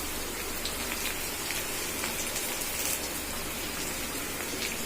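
Steady crackling sizzle of curry leaves frying in hot oil, a dense spitting hiss that stays loud and even throughout.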